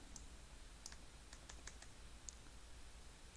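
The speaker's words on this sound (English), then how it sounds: "I can't get my keyboard from stopping from typing." A computer keyboard clicks with scattered light keystrokes in small irregular bursts, very faint beneath a steady background hiss.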